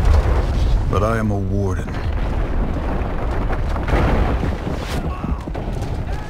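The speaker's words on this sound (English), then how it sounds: "Bombs at the ready! Fire at will!" Heavy booms and rumbling explosions from bombs in the video game For Honor roar through a battle scene, continuous and loud, while someone speaks briefly over the din.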